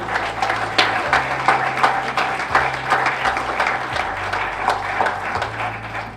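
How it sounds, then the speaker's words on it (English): A congress audience gives a sustained round of applause for park rangers, dense clapping at a steady, moderately loud level over a low background hum. "how about a big round of applause for all the Rangers just doing that work on the front line"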